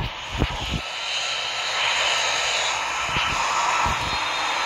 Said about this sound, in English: let's fly one of the most ugliest planes in the world, the Airbus Beluga.